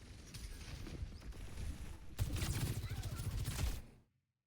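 Rapid gunfire in a first-person shooter game rattles in a steady burst, louder in the second half before cutting off abruptly, with mechanical game sounds underneath.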